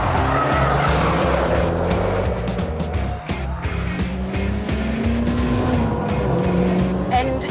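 Two Mitsubishi Lancer Evolutions, an Evo 6 and an Evo 9, race through a hairpin with loud engine revving and gear changes over screeching tires, with a voice speaking over the action.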